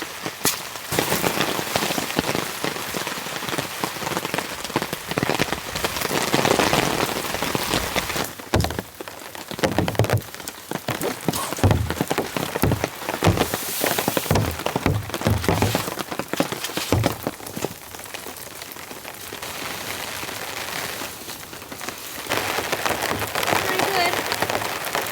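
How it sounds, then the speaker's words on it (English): Heavy rain pours steadily and loudly on a campsite with a tarp, with sharp crackling bursts and spattering impacts scattered across the downpour. "The rain's coming in. Super intense now."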